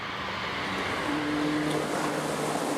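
A Mazda on intermediate tyres circles a very slippery race track, its engine a faint, steady hum from inside the car under a broad wash of road and wind noise.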